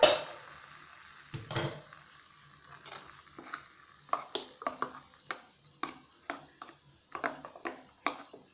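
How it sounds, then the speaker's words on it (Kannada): Oggarane tempering for a freshly ground chutney of cumin and peppercorns, crackling and sizzling in a hot pan with sharp intermittent pops and spits, plus a loud metallic clank early on and light stirring clatter throughout. "ಇದಕ್ಕೆ ಇವಾಗ ಒಗ್ಗರಣೆ ಹಾಕೋದು."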